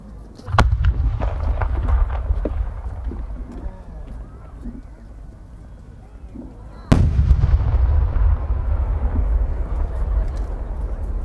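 Two booming firework bursts several seconds apart, each followed by crackling and a long fading rumble, with faint crowd noise between, at a fireworks competition in Aizu, Japan.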